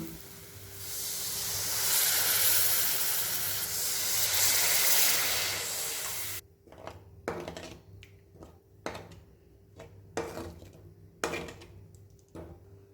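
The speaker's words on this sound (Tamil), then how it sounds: "இப்போ நம்ம 1 கிளாஸ் தண்ணி ஊற்றிக்கலாம்" Water poured into hot masala for egg curry hits the pan with a loud, steady sizzling hiss for several seconds, then stops abruptly, followed by a few scattered clinks and taps.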